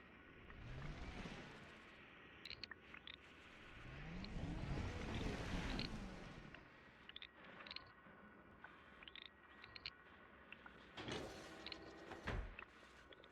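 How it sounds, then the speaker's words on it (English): A spaceship's cargo hatch in Elite: Dangerous opens with a mechanical rush. Swelling whooshes and sliding hydraulic movement mix with scattered clicks and clanks, then a sharp clunk near the end, with no voices. "Okay, cargo hatch is open."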